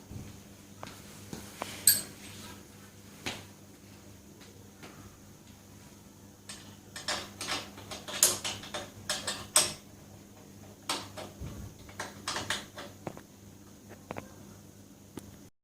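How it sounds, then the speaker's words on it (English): Scattered metallic clinks and ratcheting taps of spanners tightening parts on a Bambino during a rebuild, irregular and fairly close, with quiet gaps between clusters. "Then we're going to be tightening it up with the spanners."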